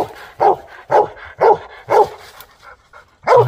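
A dog barks loudly and close by, about six sharp barks in a fairly regular rhythm with short gaps, and no talk in between.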